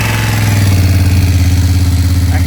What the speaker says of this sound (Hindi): मैं एग्जॉस्ट नोट सुनाता हूँ आपको इस बाइक का